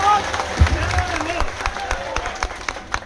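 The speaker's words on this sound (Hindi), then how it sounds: "ऐसे तालियां बजते रहे तो हमको भी जोश आता है" An audience at the Amarnath Yatra base camp at Bhagwati Nagar applauds BSF soldiers, with a steady patter of many hands clapping that carries on under someone speaking into a microphone.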